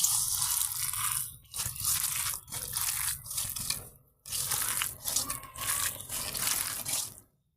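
Boiled potato and spices for a small-fish chorchori are squished and mashed by hand, giving wet, squelching crunches in uneven bursts with brief pauses, close and fairly quiet.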